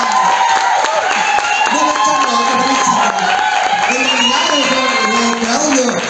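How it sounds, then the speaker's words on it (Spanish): A studio audience at a televised casting show claps and cheers in a steady, loud wash of applause with shouts and whoops, continuing without a break. "fuertes los aplausos para la señorita Charlotte de Mónaco"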